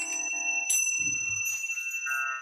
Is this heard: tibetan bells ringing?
yes